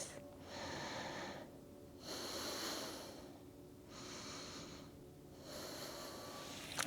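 Slow, deep breathing held through a yoga pose in a power yoga workout, about two full inhale-exhale cycles with steady breathy rushes and short pauses between, close and fairly clear with no talk over it.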